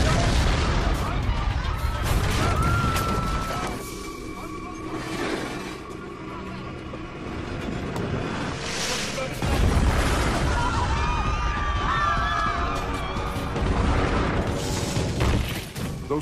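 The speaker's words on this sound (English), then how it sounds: "they had never experienced anything like a cannon bombardment." Heavy cannons fire stone balls in the bombardment of Constantinople, heard as repeated deep booms and crashing bursts over several seconds. A narrator's voice and other voices sound in between the blasts.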